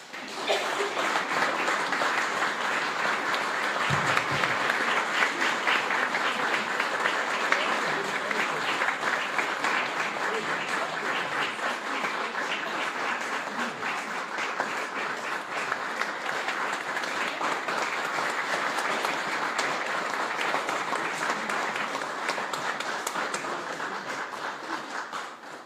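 A large audience at a classics reading in an Australian university museum claps steadily and densely, sustained applause filling the room without break for the whole stretch.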